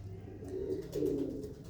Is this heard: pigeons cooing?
yes